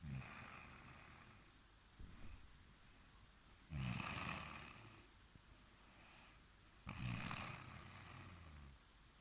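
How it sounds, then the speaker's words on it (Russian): A woman snores on request in a quiet room: two loud, rasping snores several seconds apart over faint background breathing. "Ну храпани"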